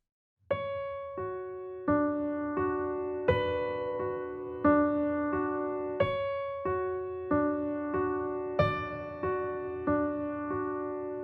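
A piano plays a slow melody, each new note struck together with a sustained chord, about fourteen even attacks that ring and decay between strikes.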